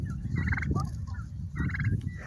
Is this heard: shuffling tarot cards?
no